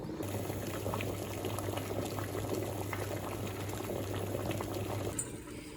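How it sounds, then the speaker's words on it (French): Eggs cooking in a pan of boiling water, a continuous close bubbling and rolling simmer that holds steady for several seconds before easing slightly at the end. "Ici, donc, on a les œufs qui sont en train de cuire."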